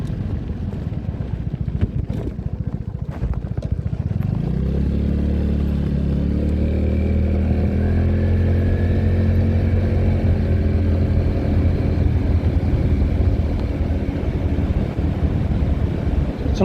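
A Vespa GTS300 HPE scooter rides through Latvia near Vecgulbene Manor: rough clattering and wind buffeting at first, then the engine settles into a loud, steady hum with slowly shifting pitch under constant wind noise, no speech.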